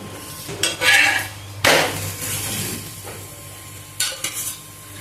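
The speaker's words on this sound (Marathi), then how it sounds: "पराठा आपण चांगला शेकून घेणार आहोत।" A bottle gourd paratha roasts in oil on a pan, sizzling softly beneath sharp spatula clinks and scrapes that come in short bursts. No speech.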